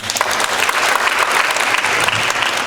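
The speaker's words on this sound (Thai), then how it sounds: "ถ้าพร้อมแล้วขอเสียงปรบมือดังๆนิดนึงครับ" A large audience at a Thai public gathering bursts into loud, dense applause that holds at full strength for a few seconds.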